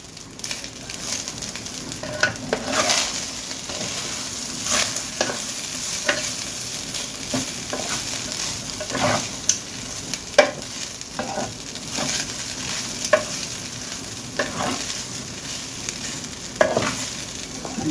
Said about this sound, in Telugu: ఇప్పుడు శుభ్రంగా రైస్ అంతా కలిసేటట్లు మనం కలుపుకుందాము.